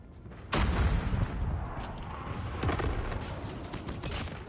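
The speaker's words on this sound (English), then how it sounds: "Friendly airstrike incoming. This is game. Napalm deployed." Napalm airstrike explosions in Call of Duty Mobile: a sudden heavy blast after a brief lull, then sustained rumbling fire and repeated crackling bursts, moderately loud and continuous.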